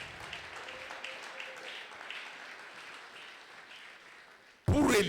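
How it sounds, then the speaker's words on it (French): A church congregation at a Sunday praise and thanksgiving service applauds and cheers for Jesus, a steady wash of claps and voices that swells into a loud burst at the very end. "Est-ce que tu peux acclamer très fort pour Jésus?"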